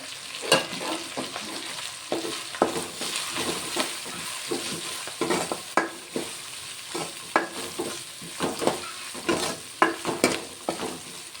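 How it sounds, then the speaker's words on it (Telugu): Onions with turmeric fry in a pan while a spoon stirs them, a soft steady sizzle broken by repeated scraping strokes in an uneven rhythm, close and fairly quiet. "ఇదంతా చక్కగా ఫ్రై అయిపోతుంది."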